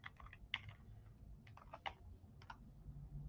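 Computer keyboard typing, quiet and close, uneven bursts of small clicking keystrokes spread across a few seconds with no speech.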